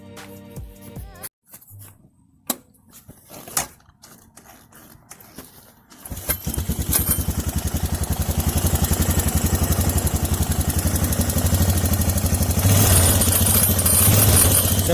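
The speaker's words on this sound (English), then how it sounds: "So as y'all can hear, it does make a little bit of a weird sound." A 2002 Honda Recon 250 ATV engine starts after some clattering handling, then runs steadily and loudly close by with a rough, slightly odd mechanical note that persists without talk.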